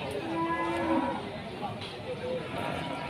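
A Pegon cow moos in a long low bellow, with another brief moo following, over a steady background murmur of a farm pen.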